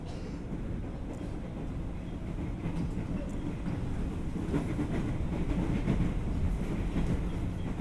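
Steady low rumble and rattle from inside a moving train carriage, continuous throughout with faint rhythmic clatter.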